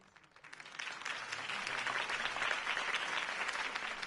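Applause from a large crowd after Harvey Dent's campaign speech in a Batman video game, swelling from a light patter into sustained, dense clapping that carries on steadily.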